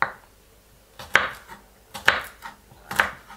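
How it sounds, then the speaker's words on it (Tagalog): A knife chops garlic on a board in four crisp, evenly spaced strikes about a second apart, close and clear with no talking. "Hiwa po tayo ng bawang."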